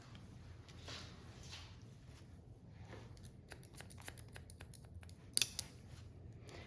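Scissors snip through hair during a stacked bob haircut, a series of small, soft crisp cuts close by with a sharper clip near the end, over faint room noise.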